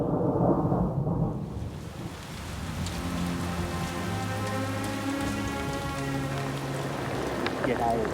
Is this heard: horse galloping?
no